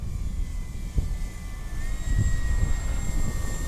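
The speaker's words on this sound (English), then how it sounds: "how slow and pretty this plane can fly" A model airplane, likely radio-controlled, flies slowly with its flaps down, giving a steady engine drone with a faint high whine, loud and close throughout, with a slight swell in the second half.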